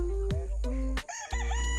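Loud, close rooster crowing in backyard poultry, with several overlapping calls from different birds in quick succession across less than two seconds.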